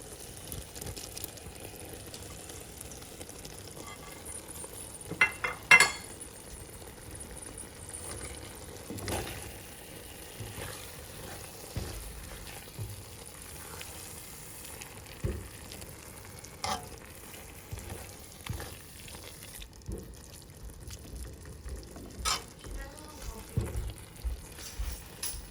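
Shrimp go into a pan of frying eggplant (baigan), setting off a steady low sizzle with scattered clicks and scrapes of stirring, several sharper knocks standing out near the pan.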